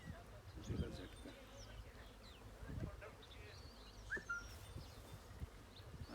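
Honeybees buzz around a beehive, faint and close by, with a few louder bursts as individual bees pass near. Quiet speech can be heard at times.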